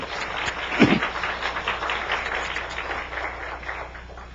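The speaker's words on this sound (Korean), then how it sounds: "우리 감사의 박수를 한번 해주십시오" A church congregation gives a round of thankful applause: a dense, even wash of many hands clapping together at moderate distance, sustained without pause and with no talking over it.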